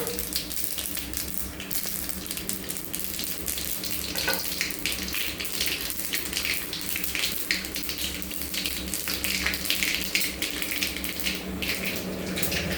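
Mustard, fenugreek and cumin seeds sizzle in hot oil for a tempering. The crackling hiss is dense and continuous and holds at a steady level throughout, with no talking.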